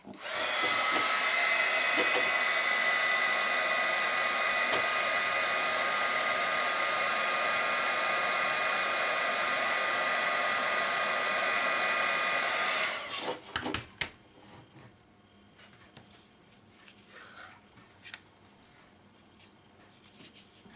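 An embossing heat tool blows hot air with a loud, steady whirring roar for about thirteen seconds, then cuts off, leaving faint handling clicks and rustles.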